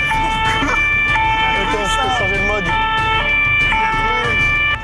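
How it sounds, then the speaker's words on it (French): A loud electronic police siren wails in steady bursts, close and continuous, with talk and background noise running underneath. "J'ai aussi toujours rêvé d'avoir ma propre sirène de flic."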